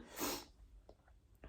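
A single sharp, loud explosive cough up close from someone with a cold, followed by a couple of quieter breathy snorts.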